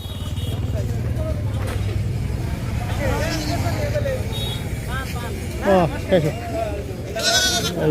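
Goats bleat repeatedly at a roadside livestock gathering, their wavering cries rising over steady crowd murmur and people talking nearby.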